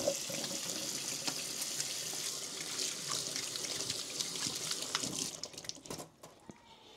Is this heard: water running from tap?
yes